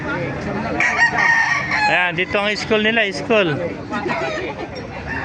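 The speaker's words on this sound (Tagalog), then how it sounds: "pakita ko sa inyo mga manok dito" Roosters crow repeatedly at a chicken market in Baliuag, Bulacan, loud and close, with clucking fowl and crowd chatter around them while someone talks over the birds.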